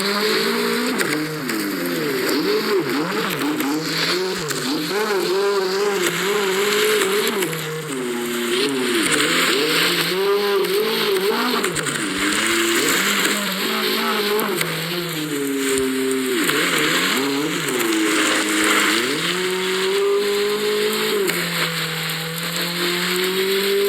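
A car in a video game drives on a slippery road with a steady, loud engine note that rises and falls as it revs, and tires squealing and skidding through the whole stretch.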